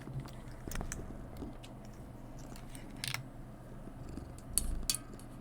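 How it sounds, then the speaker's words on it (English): A cat purrs softly and chews hand-fed treats close by, with faint crunching bites and small clicks scattered over a low, steady rumble. "little bit of kitty ASMR."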